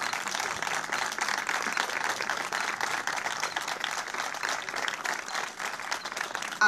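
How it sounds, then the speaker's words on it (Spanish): An audience at a women's tribute event gives an even, crackling round of applause that holds at a moderate level throughout, with no voices, just many hands clapping together. "Aplauso que hacemos extensivo para todas las mujeres"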